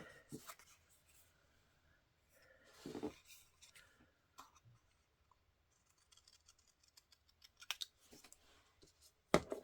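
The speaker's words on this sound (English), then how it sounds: "I'm going to cut out this little heart from there" Scissors snip through paper while a small heart shape is cut out for a papercraft page, quiet intermittent cuts and rustles separated by pauses, close and faint.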